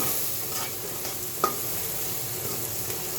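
Spices are mixed into taro and fish in a sizzling pan with steady, close stirring over a continuous fry, punctuated by one sharp clack midway.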